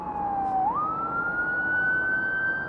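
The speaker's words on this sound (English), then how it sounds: "Oh, we have police sirens." A police siren wails through Seattle's city streets, one loud, continuous tone that dips and then climbs steadily, carrying clearly over the low city hum.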